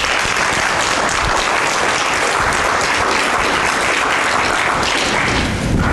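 An audience at a university speaker series bursts into loud, sustained applause that stays dense and even from start to finish, welcoming the Ohio State president to the stage.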